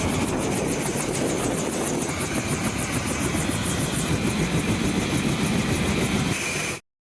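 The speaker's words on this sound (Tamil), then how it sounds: "அவை ஹெலிகாப்டர்கள் மூலம் மலை கிராமங்களுக்கு எடுத்து செல்லப்படும்" A helicopter ferrying relief supplies to remote mountain villages cut off by landslides, its rotor and engine drone loud and steady throughout, with a rapid rhythmic chop on top and no talk.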